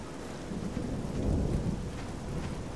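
Thunder rumbles and swells through steady heavy rain in a TES Oblivion game thunderstorm, with no voices over the constant downpour.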